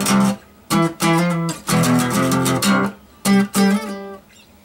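Electric guitar riff in a pop-punk song, played as short bursts of chords and single notes with brief gaps, close and loud with no talk.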